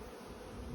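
Continuous insect buzz of honeybees around a hive where dead bees plugged the entrance, a dense steady drone filling the short moment with no talk.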